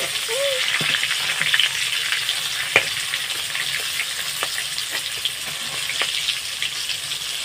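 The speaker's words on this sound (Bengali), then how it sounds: "এইভাবে আর একবার আমি ভেজে নেব।" Onions fry in oil with a constant close crackling sizzle, punctuated by several sharp utensil scrapes and stirring taps spaced through the passage, with no voices.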